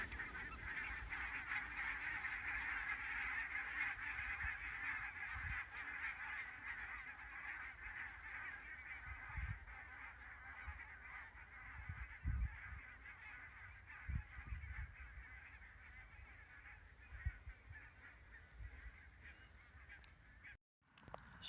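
Geese honk steadily at a distance, a continuous chorus of nasal calls over faint outdoor background, with a few soft low thumps scattered through.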